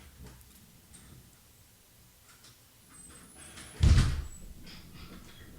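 A door opens and closes with a single loud thump or bang near the end, after a few quiet rattles and soft handle noises, all close and alone.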